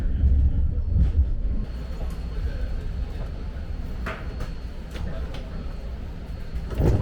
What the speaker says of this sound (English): Train will be continuing on to Millbrae Station as we reach San Francisco International.